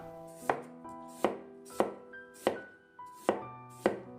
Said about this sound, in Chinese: 然后再切成薄片，尽量切的薄一点，更容易蒸熟